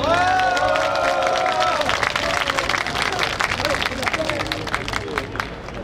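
At the opening of a commemoration ceremony for a democracy uprising anniversary in Incheon, a crowd claps and cheers under a brief swell of music, the applause steady and then gradually thinning.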